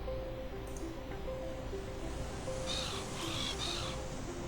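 Seagull calls in the Willy Morgan and the Curse of Bone Town adventure game: a few short, harsh squawks near the end over steady game ambience and a looping tonal music bed.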